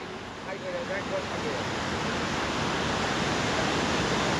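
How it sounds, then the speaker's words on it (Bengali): Sea waves wash up on a beach in a steady, broad rushing roar that swells slightly, close and continuous, with faint voices underneath. "দেখো, দেখেছো প্রমাণ, জল এসে চলে যাচ্ছে"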